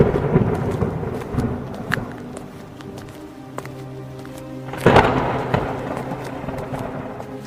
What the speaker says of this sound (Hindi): चौधरी जी, हमारा घर तूफान में गिर गया